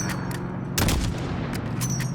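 Gunfire in Call of Duty Modern Warfare during a highway mission, a series of sharp shots with one heavier blast near the middle, set against a steady engine drone.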